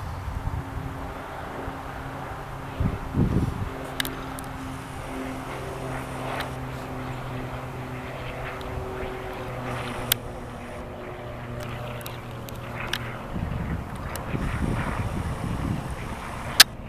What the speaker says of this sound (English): I think it's a twin, not a single engine. It's a piston twin.